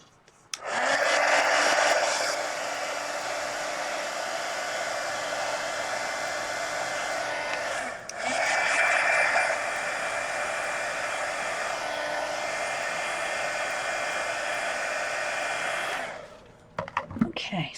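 A hair dryer blows steadily and loudly up close to dry a mixed media napkin art journal page, running continuously for about fifteen seconds with a brief dip midway before it switches off.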